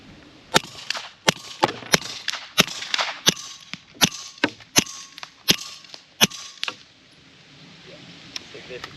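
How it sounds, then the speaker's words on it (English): A SilencerCo Maxim 9 suppressed pistol fires about a dozen evenly spaced cracking shots outdoors at a range, first defense rounds and then Syntech ammunition, each sharp report followed by a brief echo before the shooting stops and quiet follows. "So I've got 4 more rounds of the defense ammo, and then I've got the Syntech behind it"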